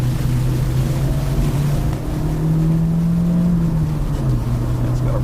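A 2015 Opel Corsa Excite's small petrol engine drones loudly from inside the cabin as the car accelerates, a steady low hum whose pitch climbs and then dips with the revs, with road rumble underneath.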